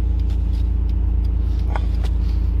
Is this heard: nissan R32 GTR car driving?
yes